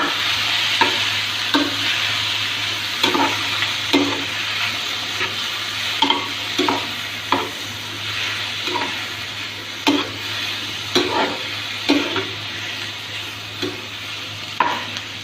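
Kohlrabi with fenugreek, ginger, garlic and green chillies being stirred in a hot pan, with steady sizzling and frying and a series of repeated scraping stirs at an uneven rhythm, close and clear with no talking.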